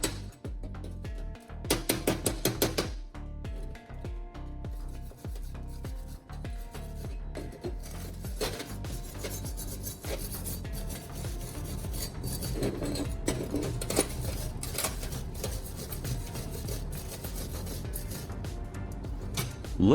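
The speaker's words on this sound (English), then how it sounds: "then brush it vigorously with a wire brush" A wire brush scrubs vigorously across a fresh weld after the slag is chipped off, a dense rasping scrape that carries on steadily, with a few sharper bursts of strokes near the start and no talking.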